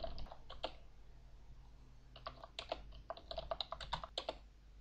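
Typing on a computer keyboard, quick irregular clusters of close, crisp key clicks with short pauses between bursts.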